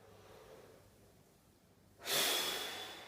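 One strong, sharp breath is drawn in and pushed out during air squats, a sudden loud rush after near quiet, close to the listener.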